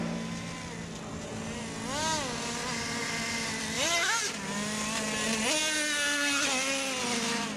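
A tuned Traxxas T-Maxx nitro RC truck engine revs outdoors in chilly weather, whining up and down in repeated bursts and throttle blips at moderate distance, with a steady idle drone underneath.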